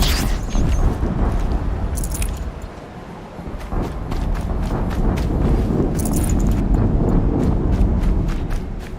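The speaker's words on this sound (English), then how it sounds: "Another explosion." In Horizon Zero Dawn on PS5, a dip in the dense rumble is followed by a renewed, heavy booming roar that swells and persists, with scattered sharp crackles and thuds on top.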